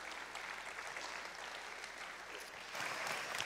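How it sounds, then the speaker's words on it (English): A seminary audience applauds to welcome a guest speaker, a steady, fairly distant clapping that swells slightly near the end. "would you just join me in giving him a round of applause as he comes up right now to join us?"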